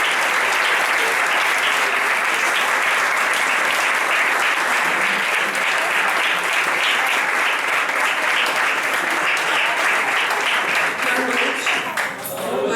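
Church congregation applauding at an evening service, loud dense clapping sustained steadily for a long stretch, with crowd voices mixed underneath and a slight dip near the end.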